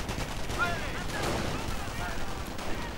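Dense gunfire and machine-gun bursts from a World War II–style war video game, a continuous loud clatter of shots and distant blasts throughout with no clear pauses.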